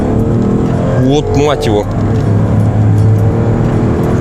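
A Mercedes-Benz S600 W220 with a V12 accelerates at full throttle in normal mode, its engine a steady low drone beneath loud cabin noise while people talk over it.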